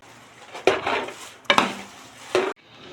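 Thick coconut flower lehyam is stirred in a pot, three distinct scraping strokes with sharp onsets and a soft bubbling between them.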